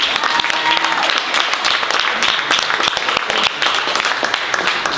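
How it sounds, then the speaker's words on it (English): Applause at a book launch at Malvern Books in Austin, dense sustained clapping from a small crowd with sharp individual claps close by and a few voices in the background. "can we get another round of applause?"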